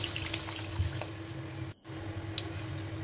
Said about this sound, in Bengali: কষানো হয়ে গেছে, এবার পরিমাণ মতো জল দিয়ে দিলাম